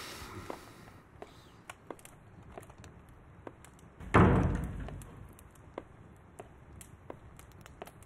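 A single solid thud of a door shutting lands midway through an otherwise quiet room, surrounded by a few faint knocks and footsteps.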